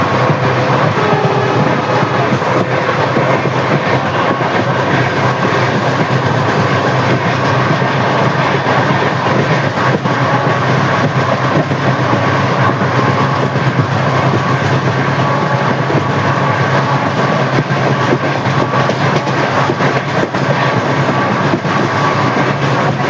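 Passenger train hauled by a WDP4B diesel locomotive on the Bandra–Veraval run near Jetalsar and Junagadh, a loud continuous rumble and rattle of wheels on track, steady throughout with no talk.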